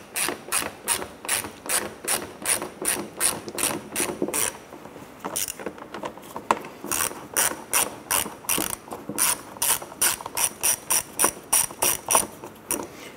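Ratchet backing out two 7 millimeter bumper bolts on a Chevrolet Impala, a crisp, close, steady train of rapid clicks with one short pause partway through.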